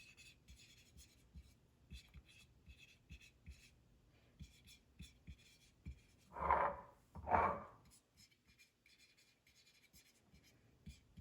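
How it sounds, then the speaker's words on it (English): Marker tip writing a label on a glass canning jar of tomato puree in a home kitchen, two short scratchy squeaking strokes close by in an otherwise quiet room. "I'm gonna write on here tomato puree."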